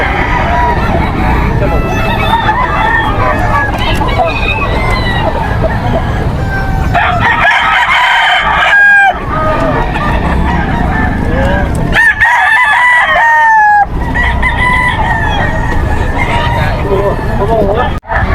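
SBR Gray gamefowl roosters at a poultry market in Bocaue, Bulacan, crowing loudly and repeatedly, several overlapping calls and clucks from nearby birds, with people talking underneath.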